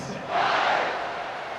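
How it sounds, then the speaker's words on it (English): A large stadium crowd in the College Football 26 video game swells into a loud, sustained roar of cheering for a kickoff, rising quickly and holding steady before easing slightly. "this crowd now ready to get behind them"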